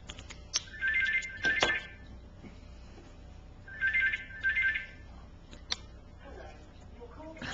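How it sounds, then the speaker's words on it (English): A telephone rings indoors in two pairs of bright electronic trills separated by a pause, moderately loud over quiet room tone with small scratching noises. "And there's the phone."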